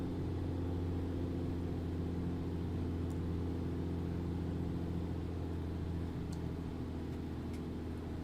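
A Black Square Bonanza's turbo-normalized piston engine drones steadily at low power on approach in Microsoft Flight Simulator 2024, a constant humming throb heard close and unbroken throughout, with no talk.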